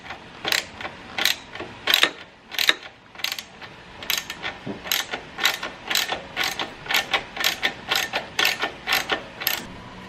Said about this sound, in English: with a 14 and a long extension on this side and then a 14 and an extension back over here, we're actually able to get it to come loose